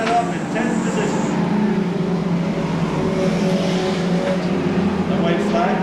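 Stock cars race at Seekonk Speedway in 1995, engines roaring and whining at close range in a continuous blur of revving, with an announcer talking over the noise.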